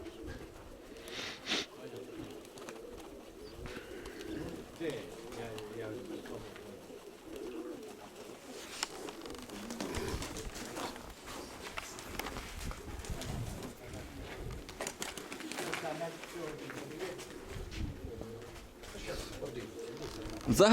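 Pigeons coo in low, throaty rolls throughout, with people talking nearby and some shuffling and background noise, in Serhiivka, Ukraine.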